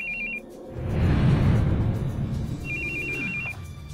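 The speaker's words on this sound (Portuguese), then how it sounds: "Desliga esse telefone agora." A telephone rings with a repeated electronic trill at the start and again near the end, while a loud rumbling noise swells in between.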